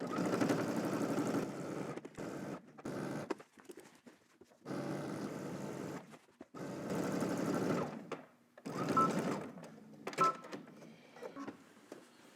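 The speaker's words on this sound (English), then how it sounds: "let's head to the machine, and we're going to stitch all the way around using 5/8 seam allowance" A home sewing machine stitches a 5/8 seam allowance around a garment, running in several loud, steady motor bursts of a few seconds each, separated by short pauses and quieter handling sounds near the end.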